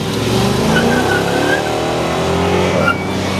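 F85 V8 car engine revving at a muscle car gathering, a loud, close, sustained roar with rising and falling pitch and a faint squeal-like whine riding on top.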